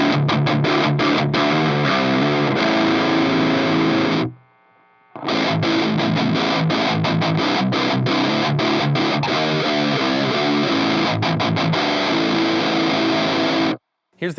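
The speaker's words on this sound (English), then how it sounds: "we lose a little tiny bit of gain when we switch over to custom mode" Electric guitar played through a Boss Metal Zone distortion pedal in custom mode, with heavily saturated chugging riffs and chords, loud and alone, broken by two brief silent gaps.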